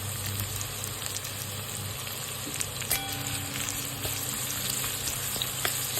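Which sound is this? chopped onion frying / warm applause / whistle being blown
chopped onion frying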